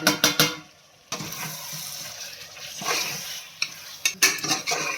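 Precooked mutton with curd, masala and salt cooking in a pan, a busy sizzle with sharp stirring clatters at the start and again near the end, a quieter stretch in between.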